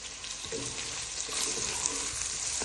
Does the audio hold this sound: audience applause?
no